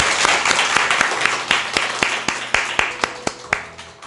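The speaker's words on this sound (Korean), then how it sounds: "다 같이 하나님 앞에 영광의 박수 칩니다" A church congregation claps together in a steady, evenly spaced rhythm of sharp hand strikes over a wash of scattered applause, loud and filling the hall, roughly two claps per second.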